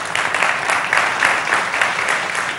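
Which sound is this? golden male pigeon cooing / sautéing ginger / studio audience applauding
studio audience applauding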